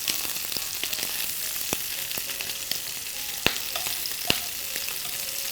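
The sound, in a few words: shrimp frying in a pan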